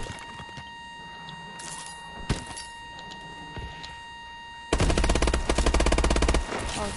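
Gunfire in a multiplayer shooter played on PS4: scattered single shots and distant pops, then a loud sustained burst of rapid automatic fire near the end, with no voices.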